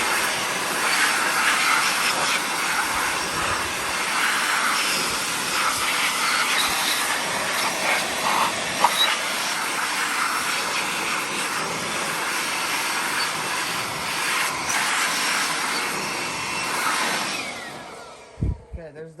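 Compressed air blasting debris out of the engine bay of a 2005 Freightliner, a loud, continuous rushing hiss that holds for nearly twenty seconds before stopping abruptly.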